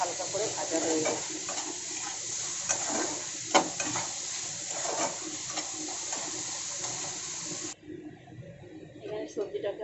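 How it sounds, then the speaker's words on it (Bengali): Vegetables lightly frying in a pan with soft stirring, a steady broadband sizzle running close and even for most of the clip before cutting off near the end, with no voices. "এখানে সবজিটাকে হালকা করে ভেজে নিয়েছি।"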